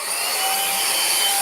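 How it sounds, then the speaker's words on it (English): A small handheld vacuum cleaner runs steadily with a high, whining motor hiss, close and continuous at even loudness throughout, with no voices. "I got this little vacuum cleaner, and so when you turn it on"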